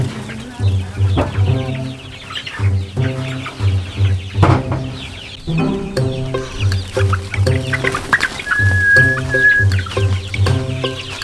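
A large flock of chickens on a free-range farm clucks busily as they are let outside, many overlapping close, loud clucks in quick rhythmic bursts, with a short high squawk partway through.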